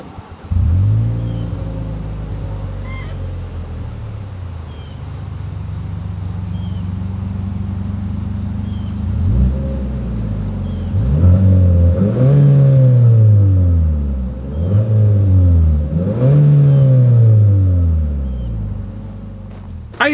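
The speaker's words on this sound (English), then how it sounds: "As always, here is that exhaust clip." 2025 Infiniti QX60 with dual exhaust, heard up close as the engine idles low, then revs in a series of repeated, rising blips that fall back between each one.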